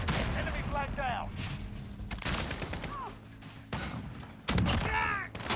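AK rifle fire in a flag-capture online shooter game, with dense bursts of automatic gunfire and thuds that stop and start across the clip, mixed with busy game effects and voice chatter.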